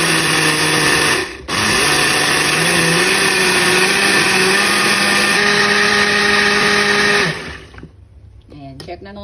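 An electric kitchen blender grinds soaked rice into batter for putong bigas steamed rice cakes, a loud steady whir lasting about seven seconds with a brief dip near the start, then cutting off.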